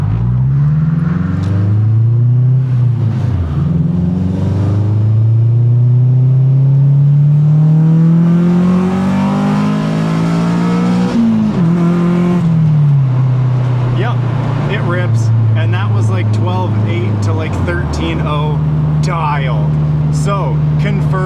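Turbocharged Honda Civic engine pulling hard at full throttle, its rising drone climbing steadily through the gears with brief dips at shifts, loud and close, with someone talking over the roar.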